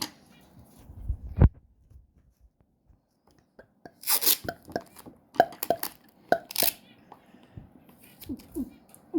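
A person imitates a heartbeat with soft mouth and tapping thumps in irregular clusters, close and fairly quiet, with a louder thump early on and breathy, hissy bursts later; people talk around it.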